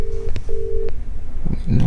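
Phone dialing tones on a call: a few short steady beeps in quick succession, loud and close, followed by a faint ringing sound at the end with no talk.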